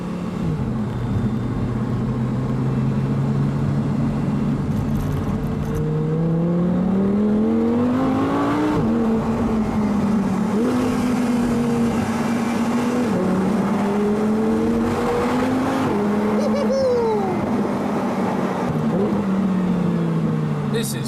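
A convertible driven at full throttle with the windows down gives a steady engine drone that rises and falls through gear changes over roaring wind and road noise, with a voice speaking at times.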